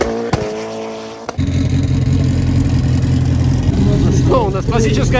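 Modified Mitsubishi Evo and Subaru lining up at a drag racing event: a brief lull, then loud, steady engine roar from about one second on with revving toward the end, commentator speaking over it.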